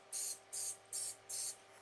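Cooking spray hisses into a dollar store cupcake tin in four short, even bursts, each about a quarter second, separated by brief pauses, close and clear with no talk.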